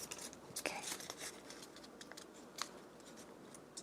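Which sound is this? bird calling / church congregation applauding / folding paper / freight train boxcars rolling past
folding paper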